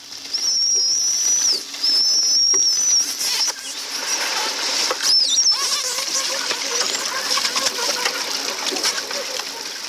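Dolphins fighting underwater give sharp rising and falling whistles and chirps, with splashing, clicks and bursts of noise throughout, close and busy.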